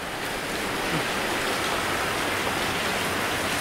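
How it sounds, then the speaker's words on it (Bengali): Heavy rain pours onto an airport runway, making a dense, steady roar of hiss that stays constant throughout with no voices. "রানওয়েতে বৃষ্টি ভিডিও করছি"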